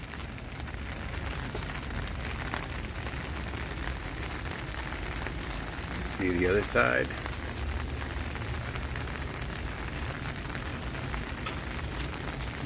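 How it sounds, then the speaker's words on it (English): Steady light rain pattering continuously on a Land Rover Defender with a panoramic roof, with someone briefly speaking partway through. "It's been raining for a solid hour."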